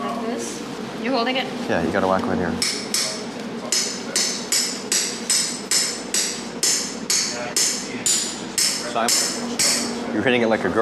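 A hammer strikes hard, a rapid series of sharp, loud blows in a steady rhythm, with voices talking over and between the impacts.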